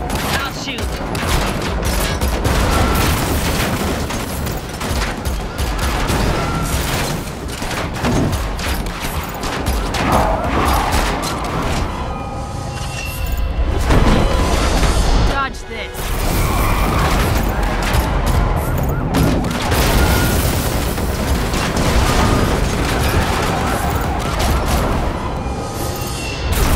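Sustained rapid gunfire fills a car chase in The Matrix Awakens Unreal Engine 5 demo, loud and dense bursts over engine roar and crashes, with a brief lull midway and voices mixed in.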